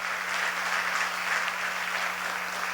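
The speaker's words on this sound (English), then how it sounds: "I want you to applaud her" A crowd claps steadily at a local Nevis community gathering, an even wash of many hands heard alone with no voices over it, brief and fairly loud throughout.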